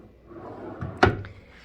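A hotel room drawer slides and closes with a single sharp wooden knock, preceded by brief soft scraping, heard close and quiet.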